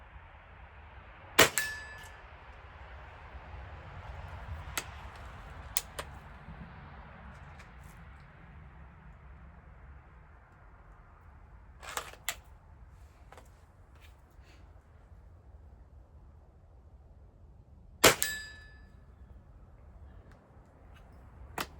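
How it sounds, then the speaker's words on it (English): Air rifle pellets from a spring-powered Gamo Shadow Whisper strike an 8-inch steel target about 24 meters away, giving sharp metallic clangs, four or five separate hits spaced several seconds apart over a quiet outdoor background. "We will be shooting the 8-inch steel target."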